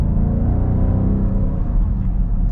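Deep, throaty V8 rumble from a 2021 Dodge Durango R/T under partial acceleration, loud and steady from inside the cabin, with no voices.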